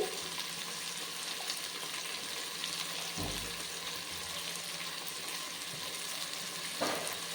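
Menthe rice pulao ingredients with green chillies and salt being stirred in a hot pan, a steady close sizzle with occasional soft scraping of the spoon, no talking.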